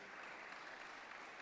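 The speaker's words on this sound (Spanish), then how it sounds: "Denle un aplauso también a ese ministerio," Applause from a church congregation for one of its ministries, a steady wash of clapping holding at an even level throughout, fairly faint and with no break.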